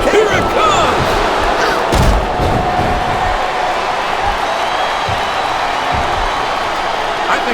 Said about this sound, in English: I think this crowd's giving these superstars a piece of their minds, King.